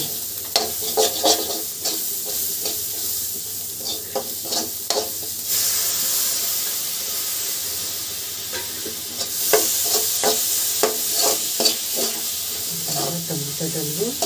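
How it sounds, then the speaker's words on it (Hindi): Tomatoes fry for street-style pav bhaji, hissing and sizzling in a pan while a spoon stirs and clacks in bursts, with a brief voice near the end. "हम उसमें टमाटर डालेंगे।"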